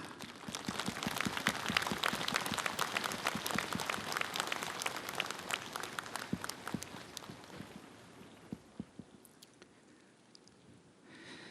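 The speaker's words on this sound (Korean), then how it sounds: "대중들께서는 큰 박수로 총무원장 스님을 단으로 모시겠습니다." Crowd applause at a national rally of Buddhist monks, loud scattered clapping from a large gathering outdoors that thins out gradually and fades to a few isolated claps.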